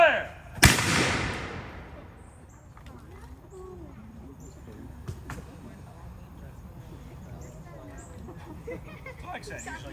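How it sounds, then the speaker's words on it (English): A matchlock musket is fired at a Jamestown Settlement demonstration: one sharp, loud report near the start that decays into a long fading rumble, followed by quieter background sounds and some talk. "what we have here is what's referred to as a matchlock musket"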